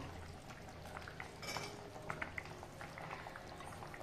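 Raw mango pieces tumble into a pan of fenugreek-leaf chicken curry, giving a faint, soft patter and light clatter over a low cooking hiss, with a few small knocks and no talking.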